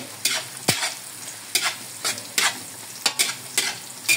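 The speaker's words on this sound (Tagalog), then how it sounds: "Gisang-gisa yung luya para lasal-lasal sa dugo." Ginger sautéing in a pan for dinuguan, the Filipino blood stew, a steady sizzle of frying broken by repeated scraping stirs of a utensil at close range, with no voices.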